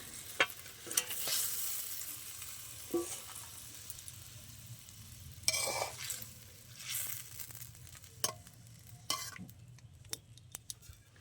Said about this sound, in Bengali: আমি একেবারে মাছগুলো দিয়ে দেবো।